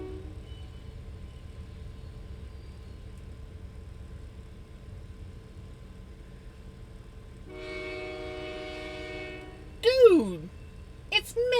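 A passing train sounds its horn in a sustained blast, followed by a sharp sweeping tone and a clipped burst, over a low rumble, with people talking nearby indoors.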